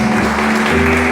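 Loud, steady applause from a church congregation fills the space, a continuous wash of clapping with a sustained musical tone beneath it.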